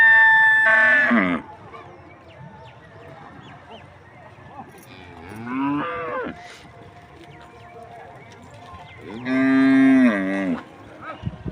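Cattle moo loudly while being bathed during a Mattu Pongal festival, with one long low call, a softer one in the middle, and another strong moo near the end, over a background murmur of people and a rooster crowing.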